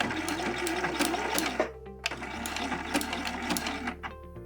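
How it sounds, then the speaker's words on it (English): A sewing machine stitches a seam on a stretchy fabric headband, running steadily with a low motor hum and rapid rhythmic needle clatter, close up and continuous with a brief change in pace partway through, no voices. "I'm just going to keep stitching towards the end."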